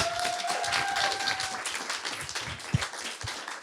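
Audience applause at a comedy show, steady dense clapping from a crowd with a tonal whistle early on and a few sharp louder claps near the end.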